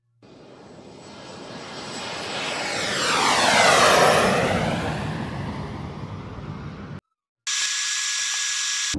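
Airplane engine roar in the VR game Drunkn Bar Fight, a steady loud drone that swells to a peak midway and then holds, cut by a brief silence before resuming.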